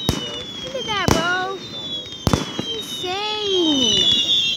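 Fireworks going off at an outdoor show, with two sharp loud bangs followed by rising, whistling crackle trails, while excited voices talk over them.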